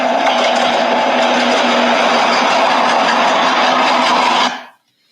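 Old diesel train playing from a video, a dense steady roar of engine and rail noise with a low hum, loud and continuous for about four and a half seconds before cutting off abruptly.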